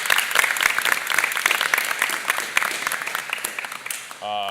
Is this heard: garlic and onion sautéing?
no